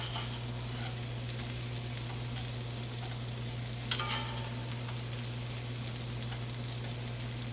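A NY strip steak, cooked to medium, sizzles steadily in a seasoned cast iron skillet: a constant close frying hiss with a low hum beneath. One brief sharper crackle rises about halfway through, and no one speaks.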